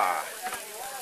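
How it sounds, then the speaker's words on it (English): Steaks sizzling and smoking on a grill at an outdoor cookout, a close, steady crackling hiss through a brief moment with faint background sounds. "As I'm burning these steaks, can you see it smoking?"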